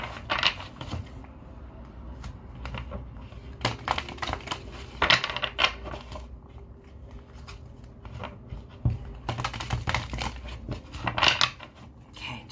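Tarot cards are shuffled close by in quick papery riffles and soft bursts, with brief pauses between rounds and occasional light taps.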